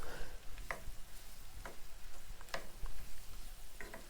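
White button mushrooms cooking in a pan, a faint soft sizzle with a few light clicks and stirring taps spaced across a quiet moment.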